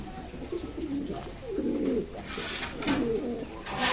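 Fancy pigeons in a breeding loft coo in low, repeated rolling phrases, close and clear over faint background hiss.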